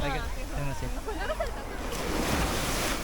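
Ocean surf washing up a summer beach, a steady broadband wash of waves swelling louder in the second half, mixed with wind noise on the microphone and faint voices in the background.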